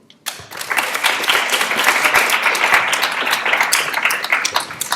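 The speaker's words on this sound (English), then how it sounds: "let's have a loud round of applause for Simeng" An audience at a machine learning talk in a hackathon series breaks into loud, dense applause that starts abruptly and holds steady, close and full, with no speech over it.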